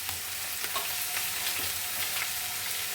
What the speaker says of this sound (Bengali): আর শুধু জিরে বাটা দিয়ে ভালো করে এটাকে কষিয়ে নিচ্ছি।